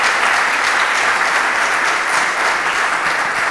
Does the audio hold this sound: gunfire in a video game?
no